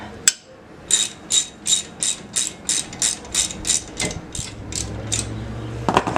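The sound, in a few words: wrench loosening a brake caliper bolt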